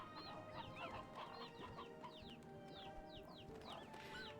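Hens cluck and chatter in Slime Rancher, a farm video game, a steady flock of soft clucks with occasional higher squawks over a busy background bed, with no voices.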